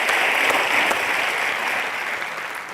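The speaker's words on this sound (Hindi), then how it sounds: "जोरदार तालियां अलका जी के लिए और शानुदा के लिए" Studio audience applause on a comedy talk show for singers Alka Yagnik and Kumar Sanu, a loud dense wash of clapping that holds steady and eases slightly near the end.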